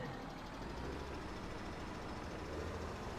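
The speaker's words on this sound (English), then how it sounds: "And now another transport tractor is coming." A tractor engine in Farming Simulator 17 drones as a steady, loud, low rumble, with no voices over it.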